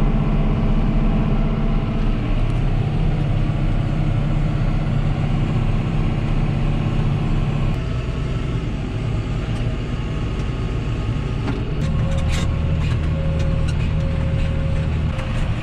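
A farm tractor engine runs steadily at close range with a deep, even drone; its tone shifts slightly partway through as it keeps going without a break, with no speech over it.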